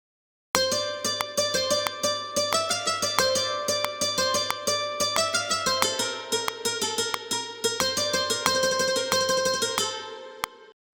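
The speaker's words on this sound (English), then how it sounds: "I'm using an Expand 2 patch for the lead sound and an oud sound from the Native Instruments India library for" Synth lead riff from an Expand 2 patch doubled by a Native Instruments India library oud, a bright, rapid plucked melody of many sharp notes over a low repeated pulse, ending in a final struck note and short decay.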